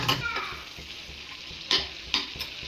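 Butter anda: masala-coated eggs with salt and coriander powder are turned in a buttered pan, giving a steady close sizzle broken by a few sharp spatula clinks against the pan.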